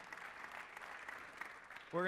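Faint, steady applause from a studio audience at a late-night talk show fills the stretch, and a voice starts speaking just as it ends.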